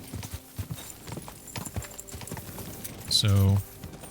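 Horse hooves clip-clop in Kingdom Come: Deliverance 2 as a steady, fairly close trot under a player's commentary, then a horse whinnies loudly and briefly near the end.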